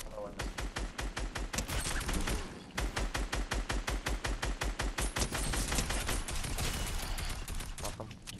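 Rapid Fortnite gunfire fills the whole stretch, loud, evenly spaced automatic bursts, each separated by a brief pause, with the firing continuing almost nonstop and players talking underneath.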